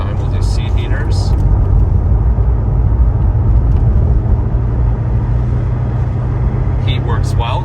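Steady low engine drone and road rumble from a 2006 Chevrolet Corvette Z06 heard from inside the cabin while driving, loud and constant, with brief sounds of a voice near the start and end.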